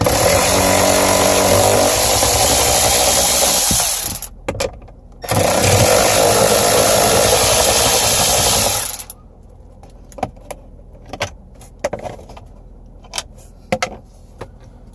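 Power tool, likely a drill or impact driver, loosening two 7mm bolts from the dash of a 2015-or-later Ford F150 or 2017-or-later Super Duty, running in two long loud bursts, then quieter ratcheting clicks and handling noises.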